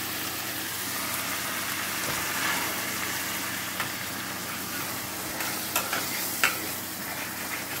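Ground meat for shepherd's pie browns in a frying pan over medium heat, giving a steady, dense sizzle with occasional soft scrapes and clicks of stirring, no voices.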